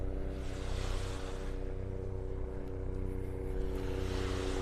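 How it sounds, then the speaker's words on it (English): A helicopter flies along a Gulf beach in North Naples, Florida, heard as a steady, distant low rotor and engine drone with faint harmonic hum, continuous and fairly quiet with no voices. "I think I hear the helicopter coming back down the beach, gonna go refill his tanks."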